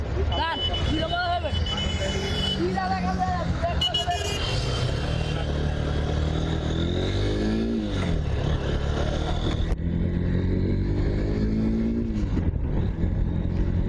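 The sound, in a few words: Honda NX 200 motorcycle riding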